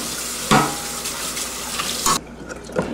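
Tap water runs steadily into a sink to rinse out a hookah part, splashing and gurgling close by with a few clinks, then cuts back to a softer trickle near the end.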